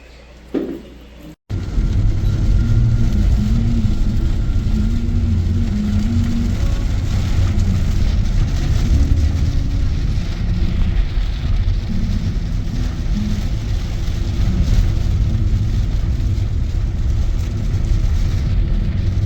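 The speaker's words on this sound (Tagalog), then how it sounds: "Grabe ulan." Heavy typhoon rain pours steadily in Daet, Bicol, a dense, loud, unbroken roar after a brief quieter start, with no voices heard.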